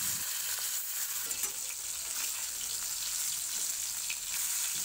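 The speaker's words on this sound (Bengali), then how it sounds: "এখন নুন হলুদ মাখানো মাছগুলো দিয়ে দেব।" Tilapia pieces coated in salt and turmeric hitting hot oil in a wok, giving a steady, dense sizzle and crackle, close and continuous, with faint stirring or shifting underneath and no talking.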